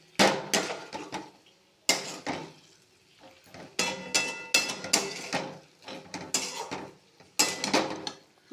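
Fried cauliflower pieces being stirred in a pan with a spoon: irregular metallic scrapes and clinks come in short bursts separated by brief pauses, close and fairly loud.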